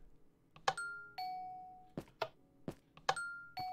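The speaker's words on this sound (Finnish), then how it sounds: "siellä joku soitti ovikelloa" Doorbell chimes in Minecraft Bedrock Edition, several clear ding-dong tones repeating in quick succession, each ringing out briefly against near silence.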